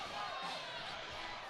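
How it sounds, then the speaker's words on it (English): A crowd at an MMA fight between Calderon and Turelli roars and cheers in a dense, continuous wash of voices, loud and sustained for the whole short stretch. "The crowd really went nuts for these two"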